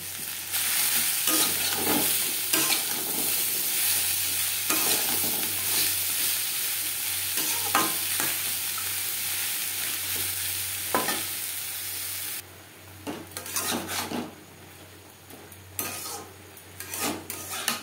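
Carrots and tomatoes cook with salt in a pan, giving a loud, continuous bubbling sizzle with scraping stirs, followed by quieter moments broken by clinks and scrapes of a utensil against the pan.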